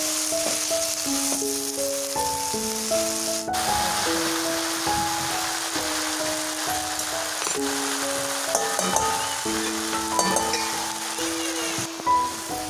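Chuch wild greens drop into hot chili oil, a steady, fairly loud sizzle running throughout beneath background music with stepped tones.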